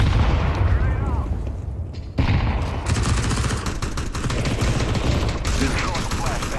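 Explosions and gunfire in Counter-Strike 2, a dense barrage of loud blasts and shots with a sharp burst near the middle, while players talk over the din.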